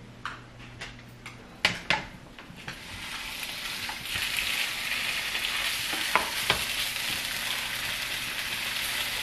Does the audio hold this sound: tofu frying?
yes